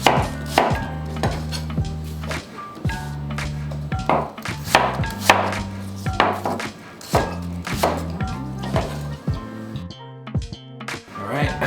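Knife chopping apples into chunks for apple pie on a cutting board, a steady series of close, crisp thuds at an uneven quick rhythm, with faint talk in the background.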